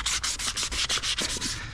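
Hand sanding a car wheel with 600-grit sandpaper: rapid, rhythmic back-and-forth scratching strokes, close and fairly loud, about ten strokes with no talking.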